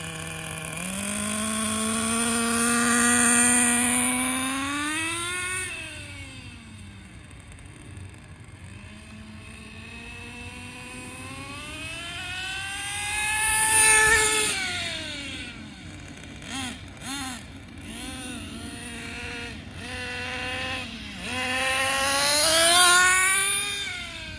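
Traxxas Nitro Bandit RC nitro car engine revving up and down in rising and falling whining sweeps, buzzy with strong harmonics, loud and near, fading as the car drives off and then screaming back, with no talk.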